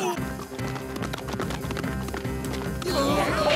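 Several horses gallop in a cartoon western, their hooves beating a rapid, steady clip-clop rhythm under lively music and voices.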